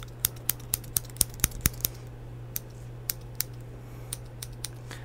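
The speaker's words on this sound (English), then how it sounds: "I'm just using these sharper scissors to get the stuff that I couldn't with the tweezers." Sharp scissors snip in a quick series of crisp, close clicks, bunched early then spaced out, over a steady low hum with no talking.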